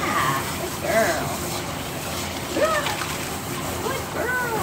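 Water splashing and sloshing as a dog is rinsed in a bath, with irregular splashes throughout and a person talking over them.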